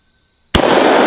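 A Double Barrel 1911 pistol fires at a target in a single sudden, very loud blast after near silence, followed by a sustained, dense roar of ringing report.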